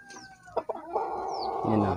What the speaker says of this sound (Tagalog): Tapos ito yung rooster natin.